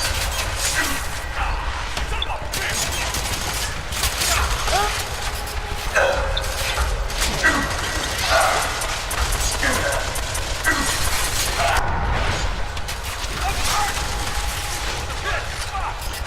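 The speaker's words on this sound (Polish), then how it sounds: "strzałki wbija, potem one wybuchają" Rapid firing of a weapon that launches explosive darts in the co-op shooter F.3.A.R, with repeated sharp shots and bursts over steady game noise while players talk.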